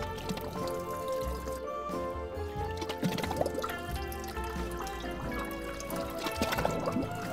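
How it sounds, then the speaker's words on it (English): Liquid is carefully poured off settled granular solid material in a humic acid preparation, with a steady trickling, dripping pour and small splashes that run continuously at close range. "Now I'm going to very carefully try to pour off without allowing large quantities of the solid material to flow out of this."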